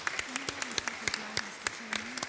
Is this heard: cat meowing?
no